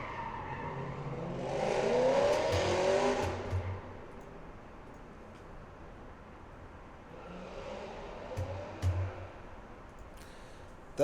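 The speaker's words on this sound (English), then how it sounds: "Someone revving their go-kart engine?" A go-kart engine revs while the kart spins donuts somewhere in the distance, a faint buzzing rise and fall that swells twice with a hint of tire scrub in between.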